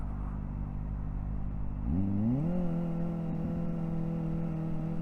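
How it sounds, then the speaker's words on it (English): A motorcycle with a Graves titanium exhaust, stuck in traffic: a steady low idle rumble, then a brief throttle rise around two seconds that settles into a smooth, sustained higher engine note, heard close. "at least you can hear the slow wind out here with the Graves titanium exhaust"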